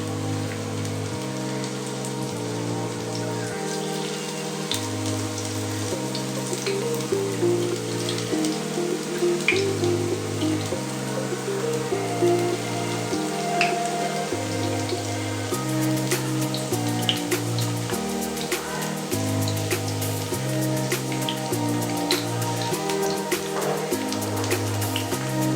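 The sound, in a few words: marinated bambi shak frying in a pan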